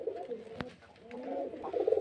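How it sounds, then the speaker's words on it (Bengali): Quality pigeons kept for sale in Beldanga, West Bengal coo in a low, rolling, continuous murmur close by, with one sharp click partway through and the cooing swelling louder toward the end. "খুব সুন্দর কোয়ালিটির বাজির পায়রা দেখতে পাচ্ছেন অবশ্যই।"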